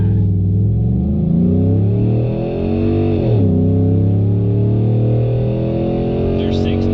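Ford F-150 with a 5.0L V8 and electric exhaust cutout opened, revving loudly and steadily, with a deep throaty rumble that dips and climbs again, close up and mostly alone.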